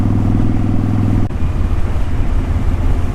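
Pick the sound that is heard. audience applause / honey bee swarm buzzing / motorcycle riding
motorcycle riding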